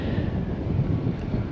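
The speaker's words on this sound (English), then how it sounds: "It's kind of windy out today" Wind blowing outdoors on a hilltop overlooking Las Vegas, a brief steady roar of gusts buffeting the microphone, loud and low with no voices.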